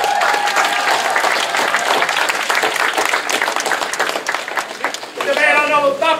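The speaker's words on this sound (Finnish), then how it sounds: "niin raikovat aplodit kaikilta nyt!" Lively applause and cheering from an auction crowd in Vuolenkoski, Finland, dense and steady throughout, with a voice rising over the clapping near the end.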